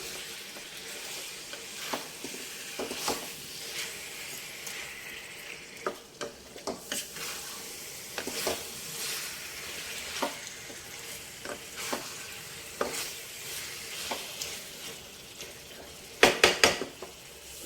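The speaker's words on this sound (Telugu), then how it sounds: "ఈ చికెన్ బాగా వేగాలండి." Chicken pieces fry in oil for a restaurant-style chicken gravy, a soft continuous sizzle broken by repeated scraping and clinking of a spoon stirring against the pan, with a louder burst of clatter near the end.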